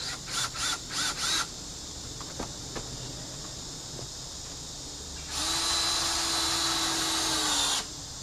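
Power drill pre-drilling holes in wood while extending a tractor shed: several short bursts at the start, a few faint taps, then one long steady drilling run, fairly close.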